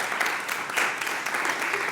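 Applause from an audience at a Capitol Hill briefing, a dense, steady patter of many hands clapping that holds evenly for the whole couple of seconds, with no pause and no voices rising above it.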